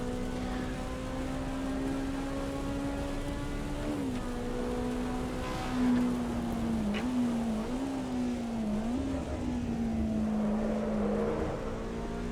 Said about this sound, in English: why are the tyres squealing?